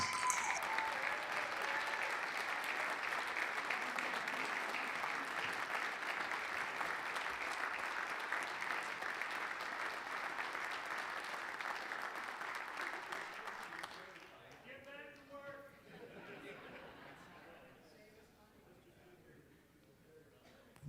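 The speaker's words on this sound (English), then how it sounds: "we'd sure like to give you an applause right now" Legislators in the South Dakota House of Representatives chamber give sustained applause, a broad, even roar of clapping that runs for about fourteen seconds before fading out, followed by quieter room sounds and a few voices.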